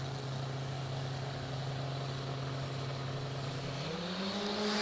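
An Aeroflow Outlaw nitro funny car accelerates down the Palmyra Dragway strip, its loud engine droning steadily, then rising in pitch toward the end as it pulls away.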